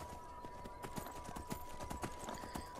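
Horse hooves clip-clop in Skyrim, a steady rhythmic run of hoofbeats at moderate level over a faint in-game background with a low hum.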